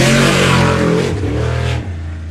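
An 850-horsepower off-road race truck at a high desert race, its engine loud and close in a sustained revving roar that drops in pitch as it shifts, with no talk.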